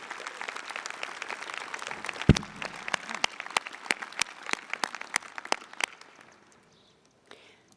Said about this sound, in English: give another round of applause to all these students